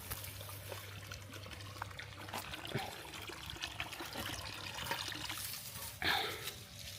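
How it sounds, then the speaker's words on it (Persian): Plants are being watered, giving a quiet, steady trickle and pour of water with a brief louder splash near the end. "اینا رو حالا من 3 روز در میون دارم آب میدم"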